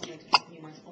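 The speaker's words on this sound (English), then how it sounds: "Did it just hiccup?" A dog gives a single short, sharp hiccup in the middle of a quiet moment, close by and fairly loud, with no talk over it.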